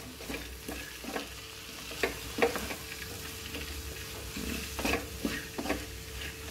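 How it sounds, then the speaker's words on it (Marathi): Moth beans (matki) sauté in oil and spice masala in a pan, a soft continuous sizzle broken by sharp scrapes and taps of a stirring spoon, close and quiet. "आणि मटकी ह्या मसाल्यात आणि तेलात छान परतून घ्यायची।"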